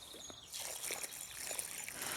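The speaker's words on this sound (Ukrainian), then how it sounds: "поливаю водичку для того, щоб дуже гарно і глибоко напита, просочився ґрунт водою" Water is poured onto garden soil around newly planted lavender, a soft steady trickle and splash that runs on evenly throughout, faint and with no voices.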